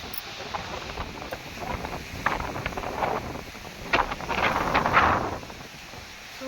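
Strong swirling wind kicks up dust in a farm orchard, blustering against the microphone in uneven swells, rising and falling with rough buffeting bursts.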